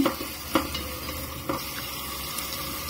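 Onions frying with ginger garlic paste and green chilli for chicken biryani, a continuous close sizzle with a few soft stirring clicks and scrapes throughout.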